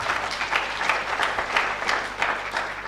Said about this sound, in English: A better hand clap